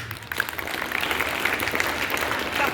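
Students at a Karnataka Public School International Yoga Day event applaud in a continuous, fairly loud wash of clapping that holds steady throughout, with faint voices underneath.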